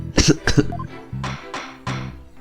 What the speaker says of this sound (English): Do you always cough when you get nervous?